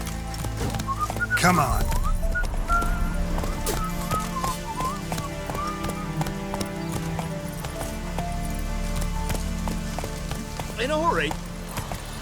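Horse hooves clip-clop at a gallop in The Witcher 3, a steady rhythmic beat under game sounds, with a whinny near the start and another near the end while someone speaks briefly.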